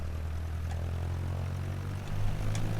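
A propeller aircraft engine drones steadily in Microsoft Flight Simulator 2020 as the throttle is pushed in, a constant low hum that swells slightly louder near the end.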